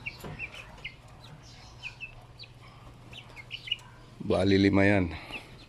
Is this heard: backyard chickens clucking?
yes